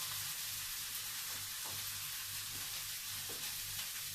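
Chopped red and green peppers fry in a hot pan with softening onion, giving a steady, close, even sizzle with faint crackle and no talking.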